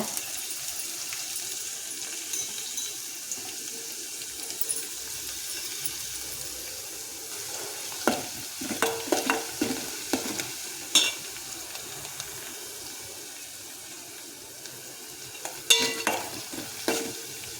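Crushed garlic sizzling steadily in a pan with dry red chillies, a soft continuous fry broken by sharp scrapes and clinks of stirring that cluster in the second half, close and with no voices.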